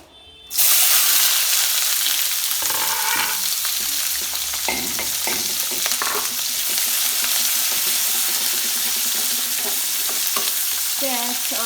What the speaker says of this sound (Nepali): प्याज, अदुवा, लसुनहरू सुरुमा हाल्ने।